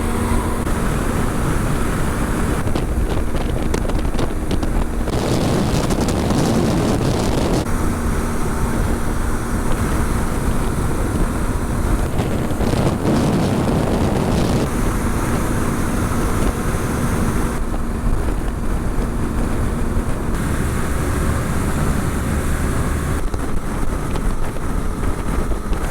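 A motorcycle ridden on the road under heavy, constant wind buffeting on the microphone, with a loud rushing roar throughout and the engine largely buried beneath it.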